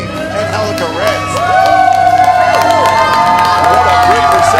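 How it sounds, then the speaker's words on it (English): A wrestling crowd at the Nightmare Factory cheers after a win, loud and building, with whistles and shouts rising over a constant roar that swells midway and stays strong. "What a great reception from this crowd here tonight."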